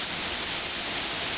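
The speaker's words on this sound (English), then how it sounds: "it's raining really, really hard" Heavy rain pours down hard during a Charlotte rainstorm, a dense, loud, unbroken hiss of water hitting surfaces with no voices over it.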